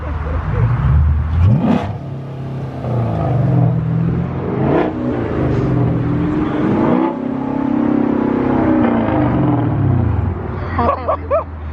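Loud, aggressive exhaust of a Nissan 350Z revving hard, with repeated rising and falling engine sweeps and a deep rumble filling the whole stretch, close to the microphone.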